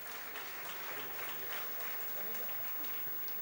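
Audience applause at an awards ceremony, a sustained wall of many hands clapping from a large crowd, steady and loud across the whole stretch with no pauses.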